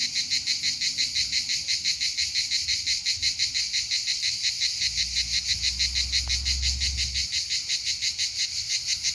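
Cicadas in trees in Italy keep up a loud, shrill, pulsing buzz at a fast steady rhythm, close by and unbroken, with a faint low rumble underneath partway through.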